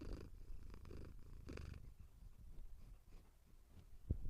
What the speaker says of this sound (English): That's her purring in the mic.